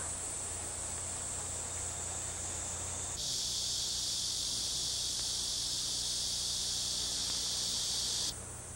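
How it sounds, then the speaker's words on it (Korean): Cicadas sing beside a summer stream, a steady bright buzzing drone that swells loudly a few seconds in, holds for about five seconds, then cuts back, with running water hissing softly underneath. "매미소리로 깊어가는 한여름 냇가는"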